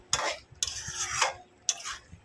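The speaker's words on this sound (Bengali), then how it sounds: "একটু 2 মিনিট নাড়াচাড়া করে নেব।" Spoon stirring a pointed gourd (potol) dish in a pan, three scraping, sizzling strokes of varying length separated by short pauses, close and clear with no talk.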